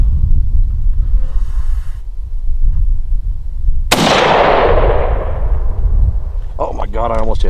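A single loud Remington 760 GameMaster rifle shot cracks out close by, followed by a long decaying echo across open ground, with a person starting to talk right after it.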